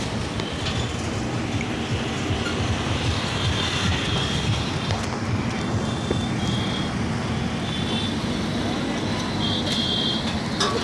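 A train rolls past a railway crossing near the Ganga river bank on the road from Prayagraj to Jhusi, giving a loud continuous rumble and clatter of wagons that fills the scene without letting up.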